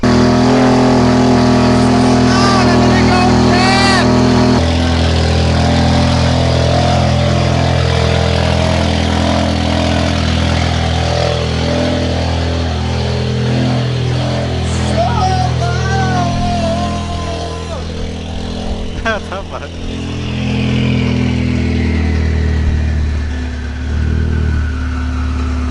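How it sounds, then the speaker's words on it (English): A 2018 Ford Focus RS engine cold-starts and settles into a loud, rough idle with steady low rumble, occasional revs rising and falling, close by. "That's what a cold start sounds like on this car."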